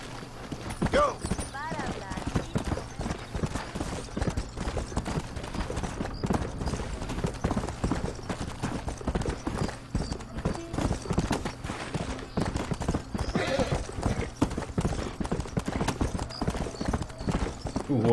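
Horse hooves clip-clop steadily and rapidly in Red Dead Redemption as the horse rides across town and climbs a hill, a continuous rhythmic patter with a voice talking over it.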